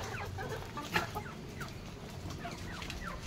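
Chickens clucking softly while being fed, several scattered short clucks and calls around a single louder squawk, close but fairly faint.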